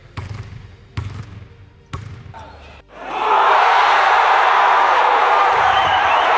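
AI-generated basketball game sound effects: three sharp ball bounces roughly a second apart, then a loud, sustained arena crowd roar swells up and continues to the end.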